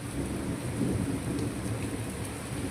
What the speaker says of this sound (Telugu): ఇంకా ఫుల్ వాన ఉరుముతుంది